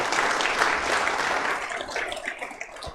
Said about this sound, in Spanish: Dele un fuerte aplauso al Señor, una acción de gracia.